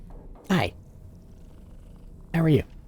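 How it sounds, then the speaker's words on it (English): A cat in the video game Death Stranding 2 purrs and gives two short, close vocal bursts about two seconds apart, with low background sound between them. "Cat!"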